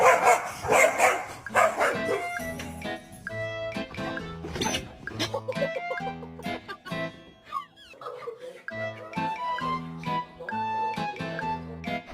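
A pet dog barks and yips repeatedly in short irregular bursts, close and loud, with a person's voice talking in between and over some of the barks.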